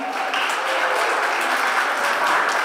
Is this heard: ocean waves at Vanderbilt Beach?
no